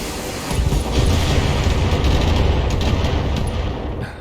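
Mech weapons fire in the BattleTech video game as a loud, sustained rumbling barrage of booms and blasts, continuous for about four seconds.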